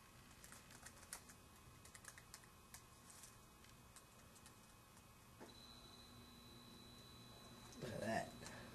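Someone types quick, light clicking keystrokes on a new replacement laptop keyboard up close. The taps come in uneven bursts, and near the end a brief louder handling noise follows.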